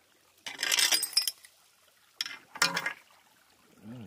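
Shards of old purple manganese glass turned up in an outdoor rock shelter give two separate bursts of bright clinking and scraping, close and fairly loud, with quiet gaps between them.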